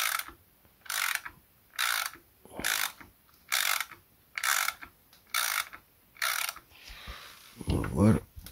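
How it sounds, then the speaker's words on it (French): A ratchet socket wrench clicks in eight regular bursts while driving a screw during a timing chain job on a Mercedes W245 OM 640 engine, close and loud, ending with a clatter of tools. "Et là je visse et les axes normalement elles sortent"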